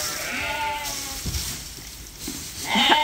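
Sheep and lambs bleating in a farm pen where ewes and lambs are fed grain, several overlapping calls at moderate distance rising louder near the end.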